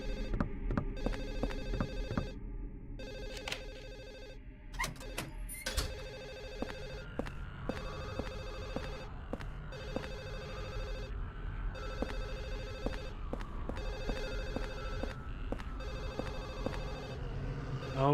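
A telephone rings over and over in Silent Hill 4, a steady repeating bell pattern that sounds close by and fairly loud, mixed with game ambience and no talk.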